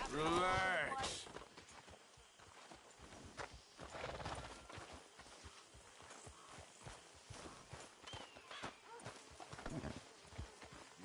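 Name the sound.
horse hooves clip-clopping in a video game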